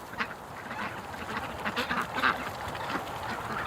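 A sick male duck quacks in short, scattered calls against steady outdoor background noise, with a few brighter bursts standing out near the end.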